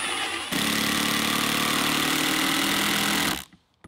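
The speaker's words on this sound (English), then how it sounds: "this is an impact driver" An impact driver drives screws into the side grain of treated lumber for a planter stand, giving one loud, steady rattling buzz of about three seconds that cuts off abruptly, close up with no talking.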